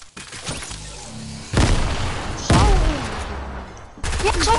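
Gunfire and booming blasts in a multiplayer squad shooter video game, coming as loud bursts that start abruptly at several points, with dense crackling sprays between them and faint voices in the background.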